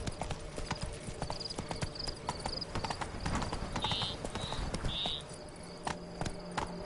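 Hoofbeats of Roach, a horse in a video game, clip-clop steadily at a gallop, close and continuous for several seconds, with a faint whinny and a few brief tonal game sounds over a busy background.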